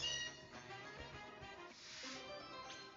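Meowth, the Scratch Cat Pokémon, gives a game cry in Pokémon Legends Z-A. The tonal meow-like call sits close and clear over steady in-game music.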